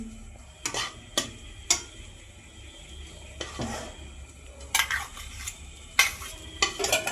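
A pan of cooked semolina being handled and lifted off the stove while making chandrakala sweets, with scattered metallic scrapes and clinks of utensil on pan, close and irregular, over a faint background hum.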